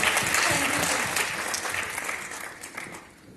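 Audience at a student session applauding a student, a steady, loud burst of many hands clapping that gradually tapers off over a few seconds.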